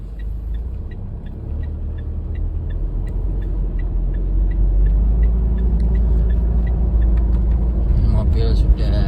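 A car pulls away during a workshop vehicle speed test, its engine a steady low rumble that builds slightly as it starts moving, with a faint periodic ticking above and a brief clatter near the end.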